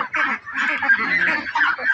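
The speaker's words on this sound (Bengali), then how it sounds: "এখানে আমরা পিকিং স্টার 13 হাঁসের" Pekin ducks of the Peking Star 13 breed on a farm keep up a dense, continuous chorus of overlapping raspy calls, close and fairly loud for the whole stretch.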